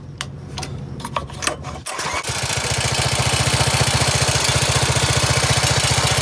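A Predator 212cc engine on a kids ATV cranks with a few pulls, catches and starts, then settles into a steady, loud, close running chug with a fast regular beat.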